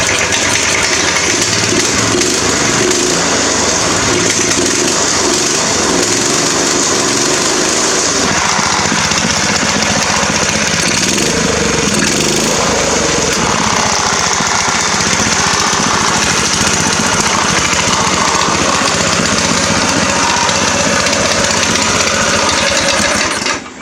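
Small gasoline engine of a cheap go-kart running steadily after a carburetor cleaning, a loud, continuous buzzing drone close by with slight roughness in its rhythm, no talk.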